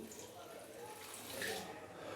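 A glass of water is poured into a pressure cooker holding beef and tomatoes for a makhni curry, giving a soft, faint splashing hiss that builds slightly toward the end.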